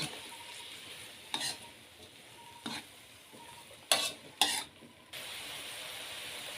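Shrimp stir-fried in a pan, with a steady low sizzle and a few sharp scrapes and clanks of the utensil against the pan, no talking.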